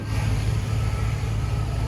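A car with a Vortec engine out on a test drive, heard as a loud, steady low engine drone with road rumble from inside or close by, and no talking.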